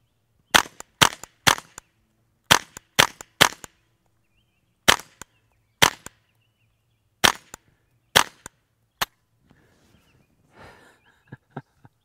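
Suppressed .22 rifle shots fired through a KGM Swarm 22 full-titanium modular silencer at an outdoor range with a berm, a dozen sharp, dry cracks in uneven bursts, loud and close, followed by faint rustling.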